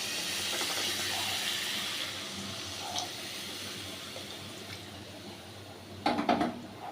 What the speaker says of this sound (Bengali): এবার দেখুন আমি পরিমাণ মতো এখানে জল দিয়ে দিচ্ছি।